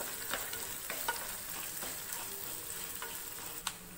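Four green chillies sauté in a pan with a faint, even crackle and occasional light stirring clicks, quiet and close with no voices.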